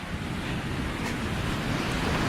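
Steady roar of ocean surf washing onto a beach, broadband and continuous with some wind buffeting the microphone, no voices.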